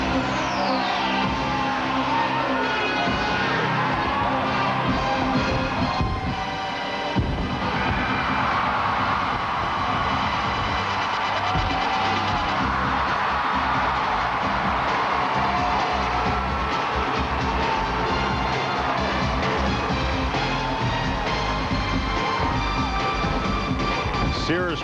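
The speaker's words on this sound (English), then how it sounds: "And the crowd loves it." A crowd at the 2001 NCAA gymnastics championships roars and cheers in a dense, sustained wash of arena noise after a floor tumbling pass.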